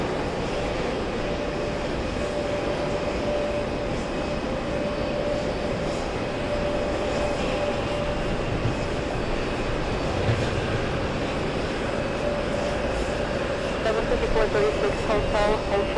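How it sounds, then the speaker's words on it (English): A Sun Country Boeing 737 airliner taxiing at JFK produces a continuous engine drone with a steady whine tone. Radio chatter runs over it, and the sound swells slightly near the end. "We're gonna head over to the Sun Country 737. And it's already on the move."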